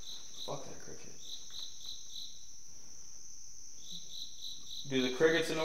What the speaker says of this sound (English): Every time I think I hear something, the cricket starts again.